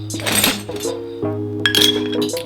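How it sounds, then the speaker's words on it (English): Ice clinks sharply against a cocktail glass, with several bright, ringing knocks up close and a lingering glassy tone between them as the cube settles. "Again, 1 large ice cube."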